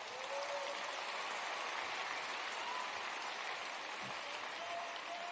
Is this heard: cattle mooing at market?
no